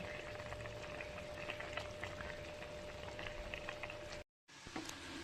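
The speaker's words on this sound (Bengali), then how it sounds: "বন্ধুরা দেখুন হালকা জল দিয়ে দিয়েছি, ফুটছে।" A pan of bhola fish curry (tel jhal) with a little water bubbling at a steady simmer, a dense continuous burble close by, briefly cut to silence near the end before resuming.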